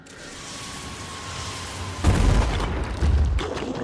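Rocket strikes in the tactical video game Phoenix Point: a low hum builds, then two heavy booming impacts land about a second apart, each followed by a rumbling, crackling tail.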